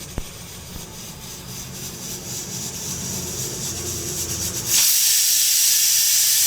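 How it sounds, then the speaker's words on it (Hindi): A sharp click, then a rising hiss of steam from a pressure cooker cooking rice that bursts into a loud, sustained high-pitched whistle near the end. "एक सीटी रह गई है, वो भी अभी लगने वाली है, उसके बाद चावल फिनिश।"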